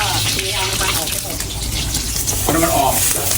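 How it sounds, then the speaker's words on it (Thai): Egg frying hard in hot oil until crispy in a busy Thai restaurant kitchen, a loud continuous crackling sizzle with scraping and stirring, and voices talking underneath. "อันนี้จะทอดไข่ให้ให้กรอบก่อน"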